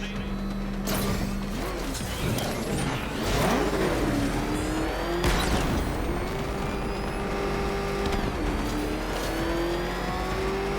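Video game car engine revving loudly and steadily with rising and falling pitch, some mechanical clatter and bursts, while a voice talks over it.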